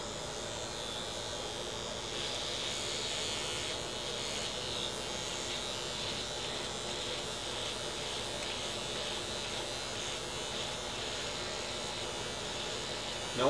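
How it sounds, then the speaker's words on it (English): An electric razor shaving off a beard, a steady close buzzing drone that runs without a break, with faint changes in pitch as it moves over the hair. "I have my trusty razor, my electric razor right here, and I am gonna shave all this off."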